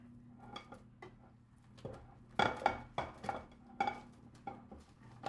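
Onions, garlic and sugar being mixed by hand in a large bowl, with irregular clinks and scrapes of a utensil against the bowl, a few sharper knocks among softer stirring, quiet and close.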